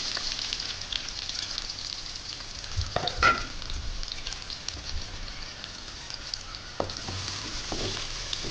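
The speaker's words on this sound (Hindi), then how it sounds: "इनको आपने ना ज़्यादा नहीं फ्राई करना, बस इनका कलर चेंज होगा" Onions frying in mustard oil for chicken keema, a steady soft sizzle with a few quiet clicks and scrapes from the pan, close and even throughout.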